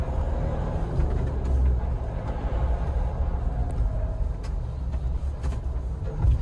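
Low diesel engine drone heard from inside the cabin of a 2023 Mahindra Thar RWD diesel at crawling speed, a steady rumble with road and cabin noise and occasional light knocks.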